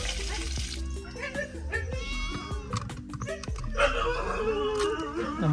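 Dogs at a Mangalorean home kitchen give out several close, uneven barks and whines, mixed with household clatter and background noise.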